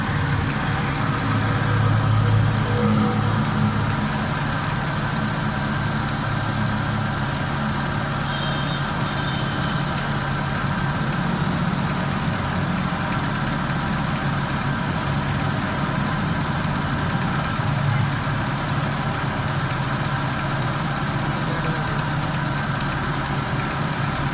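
A 2008 Suzuki Cultus EFI idling with a fault that makes it stall when the AC runs, a steady continuous low engine drone heard up close for a long stretch, with a faint whine on top and no talk.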